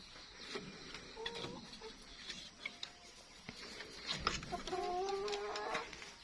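Backyard chickens cluck softly and intermittently nearby, a few higher calls rising toward the end amid faint background noise.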